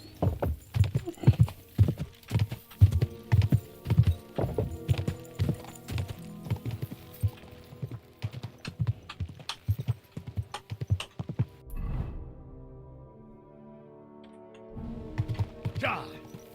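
Horse hooves pound fast and loud over rough terrain in the video game Kingdom Come: Deliverance 2, dense clip-clop for most of the stretch before easing off, with a player's voice talking over it.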